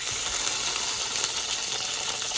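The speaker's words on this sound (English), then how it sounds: "we're gonna go ahead and add them to the pan" Seasoned trout fillets laid into a hot frying pan, a steady, bright hiss of sizzling oil filling the space evenly and close by, with no voices.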